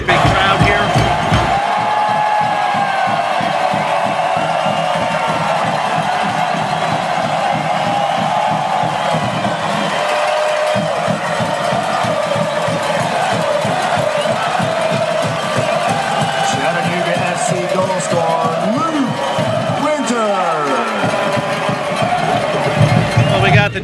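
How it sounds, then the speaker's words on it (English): A big stadium crowd roars and chants steadily at a Chattanooga FC soccer match against the Dutch Lions in Chattanooga, Tennessee, a dense, loud wall of voices with shouted cheers rising and falling throughout. "And we got a nice big crowd here."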